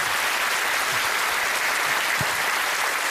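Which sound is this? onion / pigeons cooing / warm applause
warm applause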